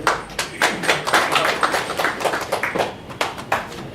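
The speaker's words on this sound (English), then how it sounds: "Applause for him." Quick, close applause from a small audience at a startup launch event, a burst of dense handclaps for the presenter that thins into scattered claps toward the end.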